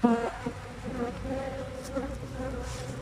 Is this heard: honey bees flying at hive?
yes